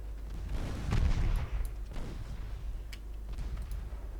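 Naval secondary guns fire in Ultimate Admiral Dreadnoughts as a series of deep, muffled booms rolling over a steady low rumble, the heaviest blast early and lighter distant reports following at irregular intervals.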